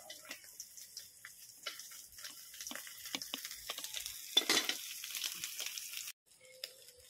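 Bulad, dried fish, frying in a pan gives faint crackles and irregular spits and pops scattered over several seconds, quiet and close, ending with a brief pause and a small final clatter.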